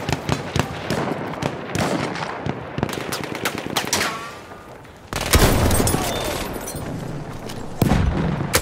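Enemy machine guns in a World War I battle in Battlefield 1 fire loud, dense bursts with echoing cracks and booms that come in waves, with no talk over them.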